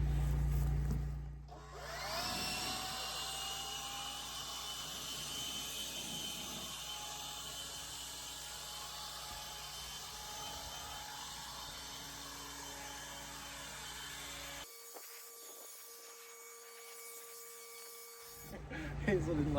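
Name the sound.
blower blowing debris off a wooden deck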